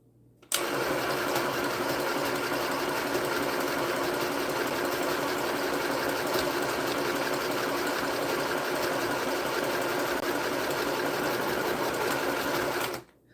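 A sewing machine under test runs continuously for about twelve seconds, a steady, loud, close mechanical whir with an abrupt start and stop and no talk over it.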